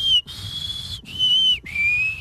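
A person whistles in imitation of a whistling snake: three sustained, shrill tones, each sliding slightly in pitch and separated by brief gaps, loud and close with no talking.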